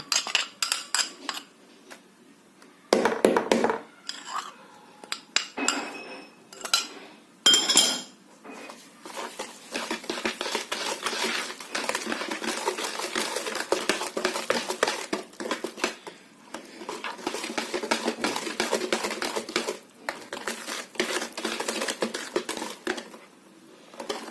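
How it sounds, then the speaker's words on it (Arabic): A spoon keeps scraping and clinking against a metal pot as a coconut biscuit mixture is stirred, with steady close rhythmic clatter and brief pauses between strokes. "وهقلب واستمر في التقليب"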